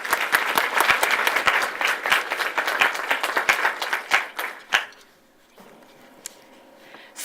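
A middle school quiz competition audience applauds, a dense burst of clapping that thins into scattered claps and fades to near quiet before a final clap.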